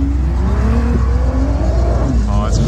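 Porsche Cayman sports car revving hard as it passes, a loud rising engine roar that builds over a couple of seconds, with people talking over it.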